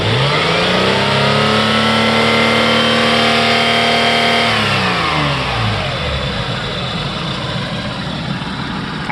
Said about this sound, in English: then we'll start doing some revs.